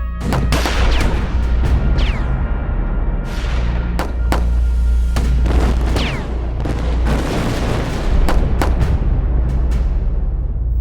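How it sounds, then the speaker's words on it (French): German troops attacking in a war scene unleash heavy gunfire and artillery, with repeated sharp shots and booming blasts over a constant loud low rumble. "Les premiers coups de feu sont tirés porte de Waterloo."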